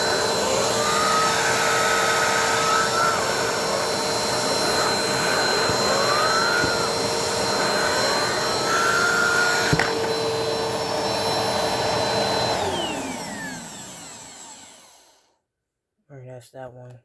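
A Helix Turbo tool runs with a steady high whine and airy roar, the pitch sliding up and down a few times before it spins down into silence, followed by a brief faint sound at the end.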